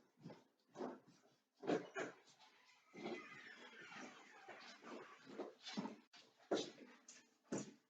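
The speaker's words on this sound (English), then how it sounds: "I gotta let my dogs out." Pet dogs whimper and make soft yips in short bursts, close by and fairly quiet, with scuffling and a door-like knock mixed in.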